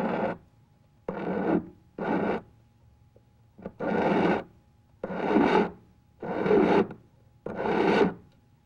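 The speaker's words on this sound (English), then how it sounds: "The first step is to file the taper on the end of the wire so that it will fit through a hole smaller than the existing" A metal hand file rasps against the end of a wire to taper it, seven steady strokes each lasting about half a second, separated by short pauses, close and clear with no talking.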